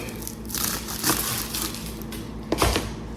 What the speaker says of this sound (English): Now we're gonna peel the garlic.